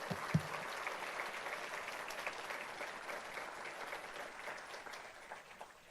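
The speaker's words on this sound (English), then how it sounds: "let's give them a round of applause" Audience applause at a community gathering in Marin: sustained, dense clapping from a large crowd that continues steadily for the whole stretch, slightly distant and gradually easing off toward the end.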